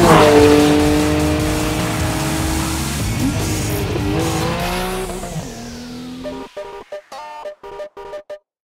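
A Porsche 911 (991) Carrera S Cabriolet drives with a loud engine roar that shifts through gears and fades, ending with a short rhythmic series of clicking ticks.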